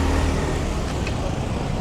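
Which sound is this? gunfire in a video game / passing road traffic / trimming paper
passing road traffic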